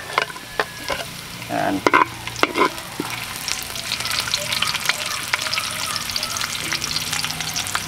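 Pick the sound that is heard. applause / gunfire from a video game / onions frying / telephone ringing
onions frying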